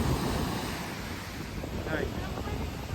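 Sea waves wash onto a village shore in a continuous soft roar with wind buffeting the microphone, fairly faint and steady with no clear talk.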